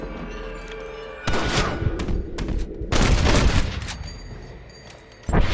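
Gunfire in the video game Red Dead Redemption, played on PS5: loud bursts of shots with booming impacts arrive in two heavy clusters, followed by another sharp blast at the end, with no talking.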